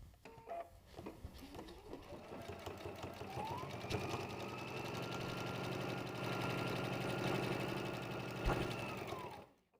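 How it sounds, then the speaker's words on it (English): A sewing machine runs a steady stay stitch a quarter inch outside the tree on a pillow, its needle chattering in a fast, even mechanical rhythm close by for several seconds before stopping. "So let's step to our machine and add a stay stitch in."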